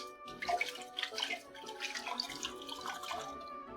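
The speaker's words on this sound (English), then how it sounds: "Alright, I think we've washed the rice pretty well." Rice being washed in water, with splashing and sloshing in irregular bursts close by; a faint tonal background sits underneath and no one talks.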